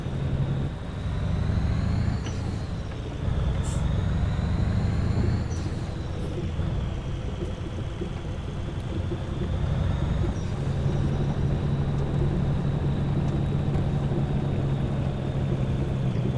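Heavy truck in Euro Truck Simulator 2, likely a Scania, running a steady low engine-brake drone with a rumbling exhaust tone that holds for the whole stretch and shifts slightly in pitch as speed changes.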